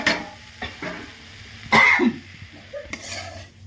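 Chilli mixture with peanut, cumin and turmeric masala roasting in a pan, quiet frying with a few sharp scraping stirs, one louder clatter midway and a brief cough-like noise.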